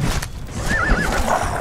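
A horse whinnies briefly in the video game Conan Exiles, over a busy background of hoofbeats and clatter, the neigh wavering and fairly close.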